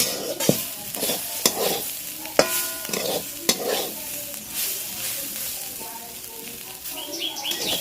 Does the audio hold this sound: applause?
no